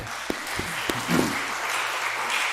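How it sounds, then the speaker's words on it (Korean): A church congregation applauds during a Sunday service, starting with a few scattered claps and building into soft, steady applause for a couple of seconds. "우리 박수합시다"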